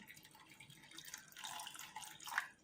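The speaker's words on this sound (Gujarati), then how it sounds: "હવે એમાં આપણે પાણી નાખીશું કરાળવા માટે" Water is poured into a bowl of washed sago pearls for soaking, making a soft, close splashing trickle that swells briefly in the middle and near the end.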